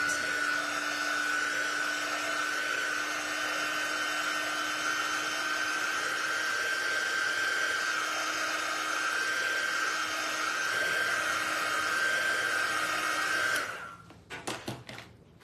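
A dryer drying a decorated Easter egg blows with a continuous steady whine for about fourteen seconds, then switches off, leaving a few soft handling knocks.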